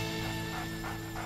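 A small, cute, fluffy dog yips in a few quick high calls over a constant humming background.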